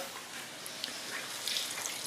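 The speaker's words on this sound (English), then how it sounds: "Now I'm going to add a bit of water" Water is poured into curry simmering in a pan, a soft, faint hiss with a few small splashes heard alone for about two seconds.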